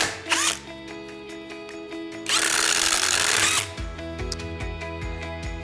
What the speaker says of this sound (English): It's a battery brush that mounts in a drill or driver